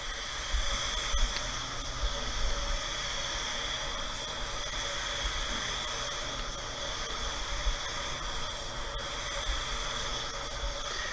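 A spray gun lays down a first coat of white pearl paint, giving a steady, even, unbroken hiss of air and atomized paint that holds at the same level throughout.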